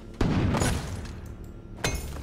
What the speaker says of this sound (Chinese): 爆炸！